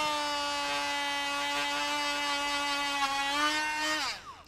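Dremel Stylus rotary tool spinning a felt pad against a block of beeswax, a steady high-pitched motor whine held for about four seconds, its pitch dipping slightly under load before it winds down and stops.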